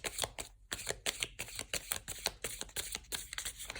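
Tarot cards being drawn and laid down, a quick run of crisp card snaps and slides in a quiet room, with no talk.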